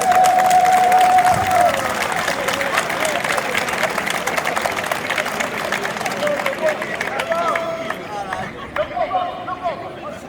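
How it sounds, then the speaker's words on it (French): A crowd at a team presentation for a francophone Scrabble world championship applauds and cheers the Benin national team, clapping and crowd chatter mixing, with music or a tone playing and voices audible throughout. "Applaudissez les Bénin."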